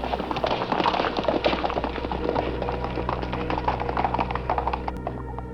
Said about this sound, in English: The horse with the cart bolted and fled in terror.